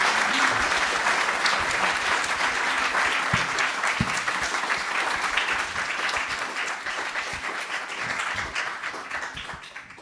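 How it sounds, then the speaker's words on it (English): A lecture audience breaks into applause, dense clapping from many people that holds steady and then gradually thins and fades toward the end. "let's give another round of applause here."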